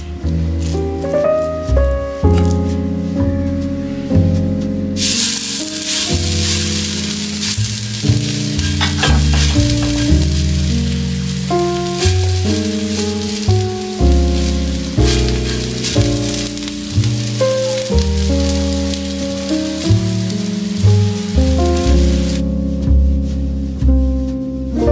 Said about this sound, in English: Let's cook our fritters. Our pan is hot.